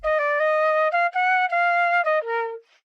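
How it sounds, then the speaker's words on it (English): A flute melody sample from the Shady Deal sound bank, several sustained, breathy notes stepping in pitch in a short phrase, clean and close with no other sounds. "I laid down this flute right here."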